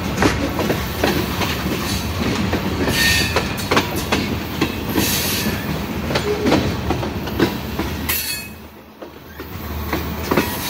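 A train rolls slowly along the tracks with rhythmic clickety-clack and occasional metallic squeals, loud and close, easing off briefly near the end.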